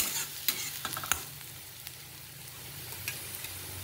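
Onion and green chilies sizzle in a small amount of oil while a spoon stirs and scrapes the pan, giving several distinct clicks over a steady, quiet frying hiss.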